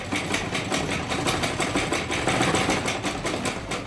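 A sewing machine stitches back and forth to lock a seam on a short kurti, giving a steady, rapid mechanical whir with a fast rhythmic pulse throughout, close and continuous with no talking.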